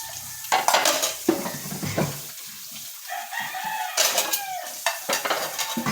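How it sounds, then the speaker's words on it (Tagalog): Dishes being washed by hand nearby: scattered clinks and clatters of plates and cutlery, water splashing and scrubbing in irregular bursts at moderate loudness, with no speech. "nandito maghugas ang pinggan"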